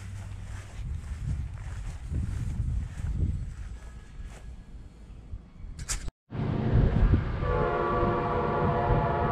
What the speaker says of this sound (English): I see the train.